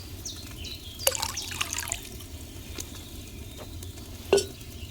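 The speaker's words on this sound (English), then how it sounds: "what did you pour in there? Wine, of course." Wine poured into a cauldron in Kingdom Come: Deliverance II, heard as soft liquid splashes and trickles with a couple of sharper drips over a quiet background.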